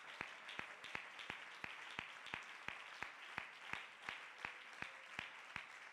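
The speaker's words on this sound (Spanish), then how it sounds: "Dele un aplauso a la gloria de Dios." A church congregation claps in a slow, steady rhythm, roughly three evenly spaced claps per second over a soft wash of applause, heard faintly from a distance.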